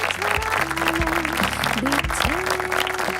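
An audience at a star hunt grand finale applauds the winner Saqib, a dense burst of clapping with tonal music or singing layered over it throughout.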